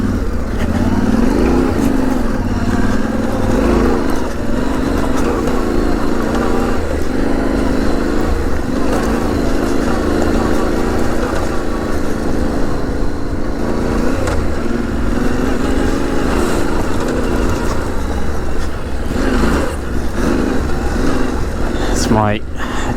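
A Yamaha Tenere 700 motorcycle engine drones steadily and loudly as the bike climbs an uphill trail, with wind noise mixed in and a rider's voice heard over it.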